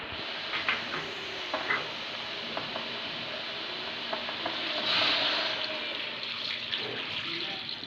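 Water poured into a cooking pot for a black pepper mutton dish, a steady broadband splashing wash running for the whole stretch with faint metallic clinks, fairly close and alone.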